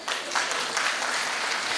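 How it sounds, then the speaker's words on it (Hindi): Audience clapping at a values-education workshop session in Surat, a steady burst of applause filling the room for about two seconds with no speech over it. "इनके लिए ताली बजाओ।"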